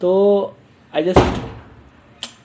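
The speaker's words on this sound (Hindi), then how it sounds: "बहुत तेज़ हवा चल रही है बाहर और किसी ने दरवाज़ा खुला छोड़ दिया है" A door left open in strong wind slams with one loud, close bang just after a brief voice, and a fainter knock follows a moment later.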